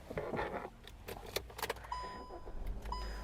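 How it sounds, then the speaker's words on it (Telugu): Power-folding side mirrors on a 2016 Hyundai i20 Elite Sportz petrol car closing at a button press, a quiet electric motor whir with small clicks and rattles, heard close inside the car. "లోపల నుంచి బటన్ ప్రెస్ చేస్తే మిర్రర్స్ అనేది సో క్లోజ్ అయిపోతాయండి"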